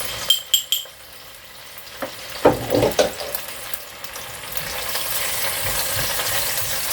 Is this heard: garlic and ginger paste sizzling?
yes